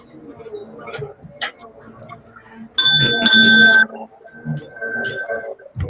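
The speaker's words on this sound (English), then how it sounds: "You over there ringing bells and stuff?" Bell ringing on a caller's end during an online Pride Month chat, a bright sustained ring with a steady tone, loud and close for about a second amid background voices and room echo.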